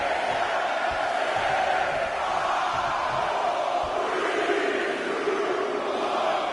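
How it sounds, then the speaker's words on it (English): Wrestling arena crowd in the WWE 2K20 video game gives a steady, dense roar of cheering, apparently counting along, with faint thumps underneath. "Listen to this crowd count the next one in."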